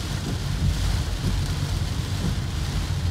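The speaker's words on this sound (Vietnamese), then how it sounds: "mưa càng ngày càng nặng hạt" Heavy storm rain in Phu Quoc, Vietnam, pours down in a dense, steady hiss with a low rumbling undertone, constant and close throughout.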